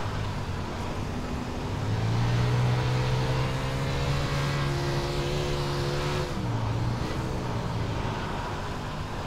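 A wingless sprint car engine in the iRacing simulator, giving a steady droning roar with a sustained pitch that climbs and then drops slightly as the throttle shifts, continuous and loud with no speech.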